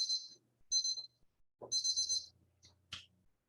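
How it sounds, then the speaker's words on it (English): A timer alarm goes off during a tea tasting, giving several shrill beeping bursts separated by short gaps, fairly close and with no talk over it. "timer has gone off"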